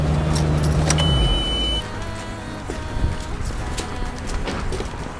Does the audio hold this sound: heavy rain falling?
no